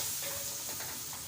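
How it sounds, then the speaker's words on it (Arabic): Garlic, black pepper and spices sizzling steadily in a hot pan as they are stirred, a dense close-up hiss with soft scraping throughout. "هقلبها تقلبتين بس تتحمر شويه مع الثومه كده"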